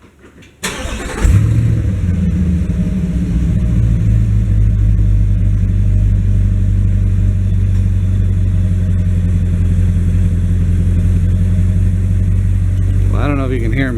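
A car engine fitted with an exhaust silencer cranks and fires, then settles into a steady, even idle heard up close near the exhaust, with a brief rev near the end.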